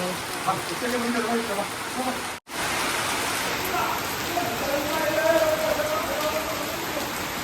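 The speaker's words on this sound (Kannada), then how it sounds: "ನೋಡಿ ಮಳೆಗಾಲದಲ್ಲಿ ಮಳೆ ಹೋಗೋ ಥರ ಹೋಗ್ತಾ ಇದೆ" Steady rain falls with a broad hiss, broken by a brief dropout midway, with faint voices murmuring underneath.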